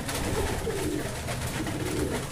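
Racing pigeons coo softly nearby, a low, continuous murmur of throaty calls with no talking.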